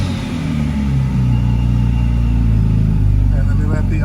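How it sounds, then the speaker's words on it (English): Supercharged 3.6-litre V6 in a 2013 Cadillac CTS coupe with AWD, suspected of a vacuum leak, given a little gas so the engine rumbles and rises in a brief rev close by. "I'll give it a little gas."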